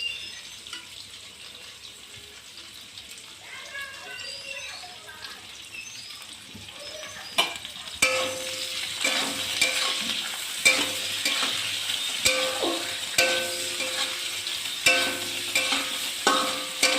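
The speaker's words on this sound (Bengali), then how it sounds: "পেঁয়াজটা ভাজা হচ্ছে" Sliced onion frying in a pan with dried red chilli and bay leaf while cooking potol with shrimp, a steady sizzle and hiss that grows louder midway, punctuated by sharp clinks and scraping of a spatula stirring.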